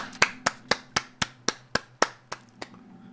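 About a dozen sharp hand claps land one after another at a steady, fairly quick pace, close and distinct, over a faint low hum, with no talking.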